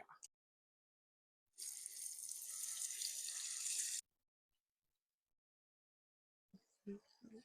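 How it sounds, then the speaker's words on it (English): Fish dropped into hot oil in a pot sizzles and hisses steadily for about two and a half seconds between silent stretches, with brief speech near the end. "I don't want to be too close to the oil when I put the fish in there."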